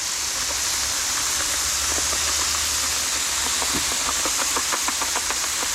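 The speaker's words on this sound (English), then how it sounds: "Chicken's down, and hear that sizzle." Chicken sizzles on a Blackstone griddle top, a loud, continuous broad hiss with crackling pops that come thicker toward the end, and no talking.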